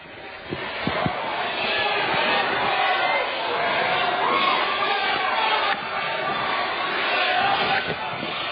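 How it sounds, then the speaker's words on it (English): A rowdy crowd at a high school basketball game roars and cheers continuously in a gym, a dense, sustained wall of shouting and chatter with a few sharp thumps near the start. "A very rowdy crowd."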